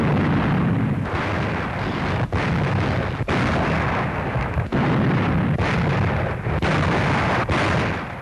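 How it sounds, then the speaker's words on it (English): Russian artillery firing on German positions in World War II booms as a series of heavy blasts, about six or seven, over a continuous rumbling roar. "Russian artillery blasted the German positions"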